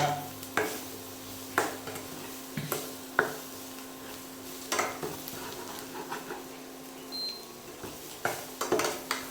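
Okra stirred in a pan with masala for Maharashtrian takatali bhendi, giving soft scraping stir strokes and light clinks at a steady pace, with a faint sizzle close by and no talk.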